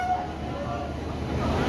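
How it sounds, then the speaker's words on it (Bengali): The Sealdah Rajdhani train pulls into New Delhi station, with a steady rumble of rolling wagons and low station din that stay even and continuous, with faint voices in the background. "এটা রাজধানী, শিয়ালদা রাজধানী ঢুকছে এখন নিউ দিল্লিতে"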